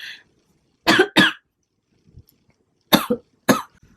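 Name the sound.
coughing fit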